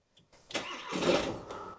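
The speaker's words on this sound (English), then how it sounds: "So let's just push in the clutch, start the engine." VW Crafter van engine cranking and catching, a short starter whir followed by the engine firing up to a steady running roar, close and fairly loud.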